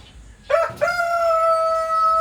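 A large Rhode Island rooster crows once, close and loud, starting after a brief quiet moment and holding its drawn-out call to the end.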